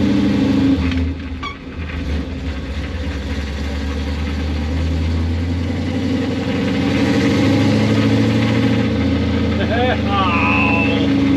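A Pontiac Firebird with a freshly swapped 4-speed manual runs loud and close, a steady mid-pitched engine drone that dips briefly early on, then holds and swells slightly.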